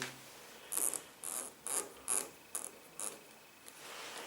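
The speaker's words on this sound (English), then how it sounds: "I'm going to loosen off the clutch cable just to make my life easier" Motorcycle clutch cable adjuster on a Yamaha XJ6 Diversion being loosened, six short ratcheting clicks in a steady rhythm, close and fairly quiet, with no talking.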